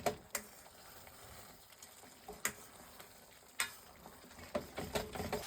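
Mapo tofu frying in a pan, a steady close sizzle broken by sharp clacks and scrapes of stirring at irregular intervals.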